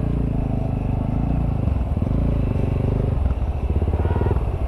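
An off-road motorcycle churns through mud, its engine droning loud and steady throughout with rising revs and a choppy, pulsing tail as it works through the muck.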